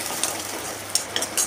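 Onion, chili, garlic and ginger paste frying in hot oil, a steady soft sizzle with occasional sharper crackles and spatters, close and fairly quiet.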